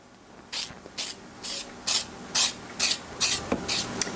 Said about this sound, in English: I'm going to spray the sides of my pan.